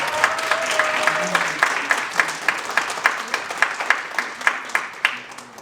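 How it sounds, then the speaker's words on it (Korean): An audience at a youth counseling center's annual report meeting applauds, beginning as dense clapping. It then settles into slower, rhythmic claps in unison, fairly close and moderately loud. "이제 2차 박수 한번 부탁드리겠습니다."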